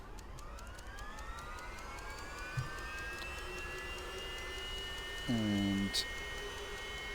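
A helicopter turbine engine in the X-Plane 11 flight simulator starts up, its whine rising steadily in pitch under a low rumble while someone talks briefly, followed near the end by a short tonal beep.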